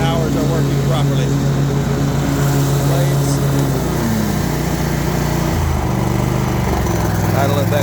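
Toro Titan ZX4800 zero turn riding lawn mower with a 48-inch deck runs loud and close, a steady engine hum whose pitch drops in steps as it is throttled down partway through.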